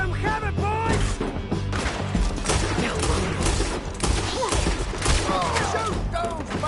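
Gunfire in a town shootout in Red Dead Redemption, a busy volley of overlapping shots over a low musical score, with whistling ricochets and some voices mixed in.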